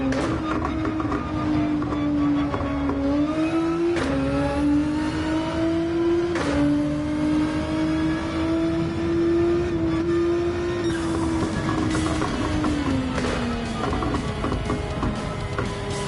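A race car engine in Gran Turismo 7 screams at high revs for a long stretch, the pitch climbing and holding near the limiter before dropping near the end, loud and close.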